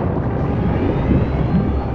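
A drone hauling a tuna in the game Dave the Diver, a loud, close, steady low engine drone like an aircraft hum, continuous and unbroken, no talking.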